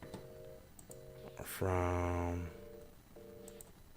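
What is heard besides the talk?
phone call being dialed via Google Hangouts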